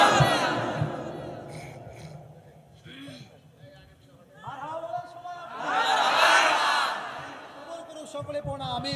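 A mahfil crowd answers a takbir call with a loud collective shout that peaks midway, surrounded by scattered voices and chatter before and after.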